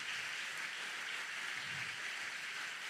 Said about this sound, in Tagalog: Sige, palakpakan po natin ang ating Panginoon.